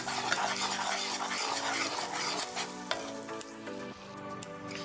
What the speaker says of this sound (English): next I'm just going to mix until it's well combined